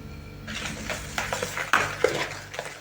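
A spoon scrapes and clinks against a bowl while mixing Easter bread batter with milk and flour, with irregular knocks and soft scraping, close by and fairly quiet.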